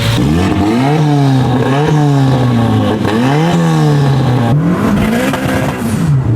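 A 1740 hp Nissan R34 GT-R with an RB26 engine and a big Pro Mod 88 turbo makes a street pull: a loud, close, continuous engine roar that climbs and drops repeatedly through gear changes.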